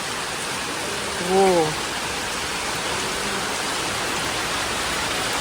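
Heavy monsoon rain pours down in Ubud, Bali, a dense, steady hiss that fills the whole clip, with a brief voice speaking near the start.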